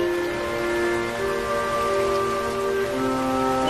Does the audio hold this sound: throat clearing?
no